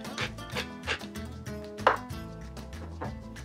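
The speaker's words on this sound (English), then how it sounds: "a few grinds of pepper" A pepper mill cracks black pepper in a handful of short, crunchy grinding bursts at a loose rhythm, close and fairly quiet over soft background music.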